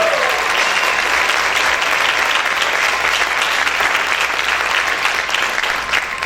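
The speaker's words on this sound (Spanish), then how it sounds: "Aplaude fuerte al Señor" A church congregation applauding loudly, a full and sustained burst of clapping from many people that fills the room and stays strong the whole time.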